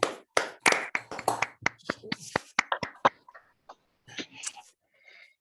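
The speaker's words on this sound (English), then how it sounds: "give Torsten a round of virtual applause" Scattered claps and sharp taps from an unmuted online audience giving a round of virtual applause after a mathematics talk, uneven and sparse, mixed with faint rustles and a cough-like burst, fading out near the end.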